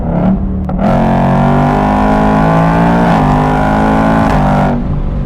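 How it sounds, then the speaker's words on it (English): A 2024 Ford Mustang GT with the Coyote V8 roars as it drives fast, a loud, close engine note climbing and shifting through gears for several seconds before easing off at the end. "480 horsepower from the Coyote V8 is no slouch."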